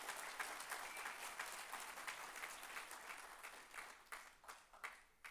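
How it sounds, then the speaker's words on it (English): An audience at a breakfast event applauds steadily, a dense patter of many hands clapping at moderate distance, with no voices standing out. "let's do another round of applause"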